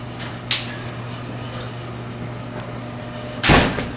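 The back door of a studio kitchen opens and closes, giving a soft knock early on and then a sharp, loud slam near the end over a steady background hum.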